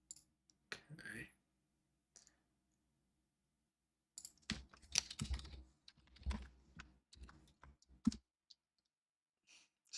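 Computer keyboard typing in bursts of quick clicks, with pauses between runs, recorded close and fairly quiet, with a faint sigh or breath at one point.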